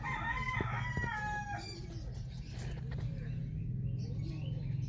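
A rooster crows loudly nearby among a flock of stock chickens, with a long descending crow at the start, then softer clucks and bird chatter around a farm yard.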